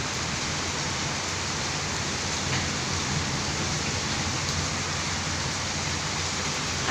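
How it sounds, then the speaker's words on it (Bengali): Heavy rain pours down steadily and loudly in the dark during a storm with lightning, a dense, unbroken hiss close by with no voices. "অনেক বৃষ্টি হচ্ছে।"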